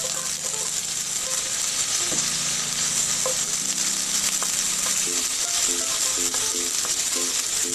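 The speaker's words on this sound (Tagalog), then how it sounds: "Stir fry lang po natin hanggang sa mag-luto siya ng mga hapok." Green beans stir-frying in a pan give a steady loud sizzle with scraping and stirring clatter throughout, no talk.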